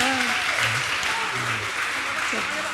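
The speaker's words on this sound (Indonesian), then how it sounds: "Tepuk tangan dulu, bro." A group at a drug rehabilitation gathering claps together, moderately loud and continuous, while voices keep talking over the applause.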